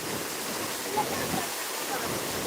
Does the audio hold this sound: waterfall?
yes